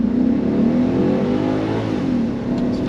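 A BMW X5 48i V8 M Sport (E70) pulls away hard from a standing start, the engine note rising loudly and steadily with a brief dip as a gear changes.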